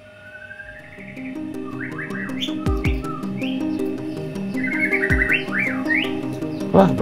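Small birds chirp and whistle near a bird cage in a quiet village, bright repeated tweets and short trills close by over a steady low hum, with a few soft knocks.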